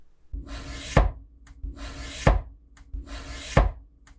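A kitchen knife chops food on a board while a beginner learns to cut pieces smaller, three separate bursts of strokes each ending in a sharp thunk, close and clear with no talk over them.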